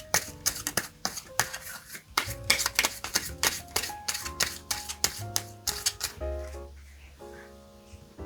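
Tarot cards being shuffled and drawn one at a time, a close run of crisp snaps, flicks and slaps that gives way to softer sliding near the end, set against quiet background music with no speech.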